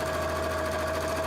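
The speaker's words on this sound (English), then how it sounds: "I'm going to just make that flat under there. There you go. So I can sew that nice and flat." A sewing machine runs steadily while stitching fabric flat, a continuous close motor hum with a faint rapid needle patter throughout, no voices.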